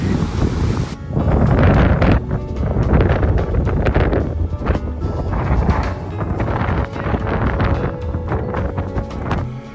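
Strong wind buffets the microphone on the Camino trail from Le Puy-en-Velay, in loud, continuous roaring gusts that rise and fall throughout.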